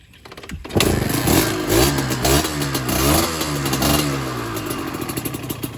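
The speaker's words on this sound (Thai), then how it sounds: "ติดเครื่องดูครับ เปิดกุญแจครับ" A dirt bike motorcycle engine cranks and catches after a short pause, then runs with loud, rough revs and clattery idle close by, settling into an uneven putter toward the end.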